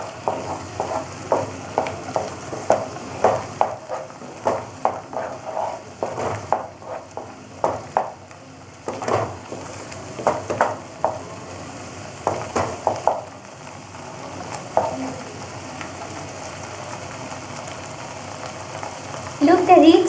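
Spices of red chili, coriander and cumin powder being stirred and fried in a pan for fish kofta curry, with repeated scraping strokes over a steady sizzle, close and moderately loud, no talking.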